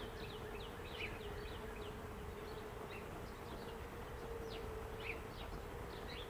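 Honeybees buzz at the entrance of an observation hive, a dense, steady hum with individual bees zipping close past now and then, continuous and fairly faint.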